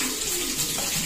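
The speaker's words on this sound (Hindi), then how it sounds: "इस पानी को पूरी तरह से बाहर निकाल लेना है।" Dirty, rusty water drains out of an electric geyser tank during a home element repair, a steady close rushing splash like a running tap, with no voices.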